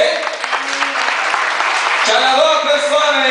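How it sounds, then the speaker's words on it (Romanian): A crowd in a pub in Dublin, at a Miss Iasi event, applauds loudly and continuously while tonal music or voices run underneath the clapping. "Vă rog frumos aplauze."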